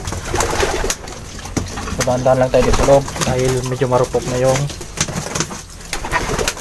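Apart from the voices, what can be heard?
young pigeons cooing in a coop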